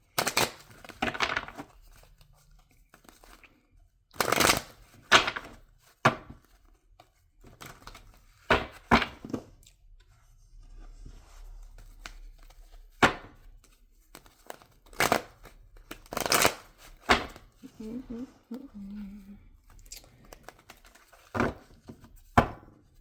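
Tarot cards being shuffled and handled during a reading, heard as irregular bursts of crisp flicking and slapping spread across the clip, each separated by short quiet gaps, with no talking.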